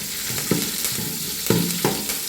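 Mustard seeds, dried red chili, chopped shallots and curry leaves fry in hot oil for a cauliflower curry, a steady sizzle broken by a few sharp stirring scrapes and pops.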